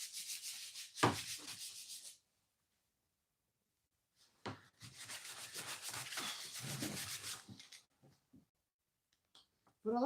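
Sandpaper rubs over wood in two bursts of steady, rasping strokes, close and fairly loud, with a quiet pause between them and a few light clicks and knocks toward the end.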